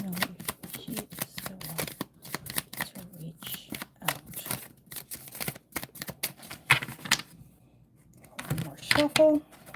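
Tarot cards are shuffled during a reading in rapid crisp clicking bursts with short pauses, and a voice speaks briefly at times.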